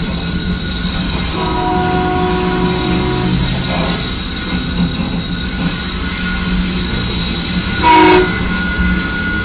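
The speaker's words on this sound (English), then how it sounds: "Footage shows the train horn blaring as it barrels toward the crossing." A train's horn blasts loudly near a level crossing as the train barrels toward it, tonal blares sounding over the steady low rumble and clatter of the rolling rail cars.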